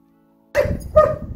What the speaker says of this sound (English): The dog over there keeps barking.